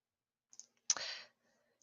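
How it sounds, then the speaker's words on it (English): A computer mouse clicks once, quiet and close, with a faint tick just before it, in an otherwise silent room. "I will click on the Excel link."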